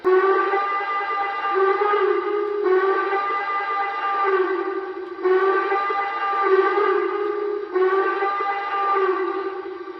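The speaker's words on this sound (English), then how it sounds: "Here's the whistle." A long, steady, harmonic whistle from a Lionel TMCC Norfolk & Western Class A 1218 model steam locomotive sounds on and off in four sustained blasts, each with a slight wavering pitch, loud and alone.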